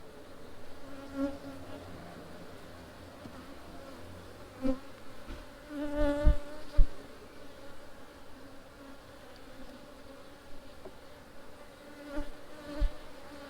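Honeybees buzz around an opened production hive during an inspection in Jamaica, a constant low drone from many bees with louder passes as individual bees fly close, plus occasional handling knocks.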